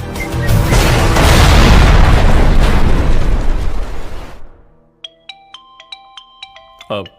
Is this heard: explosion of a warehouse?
yes